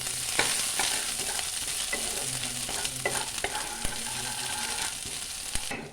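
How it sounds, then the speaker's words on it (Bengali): Crushed ginger sizzles steadily in hot oil while a utensil stirs and scrapes the pan in scattered, irregular strokes, with a constant close frying hiss throughout. "আদাটাকে একটু নেড়ে নেবো যতক্ষণ পর্যন্ত না আদার কাঁচা গন্ধ চলে যায়"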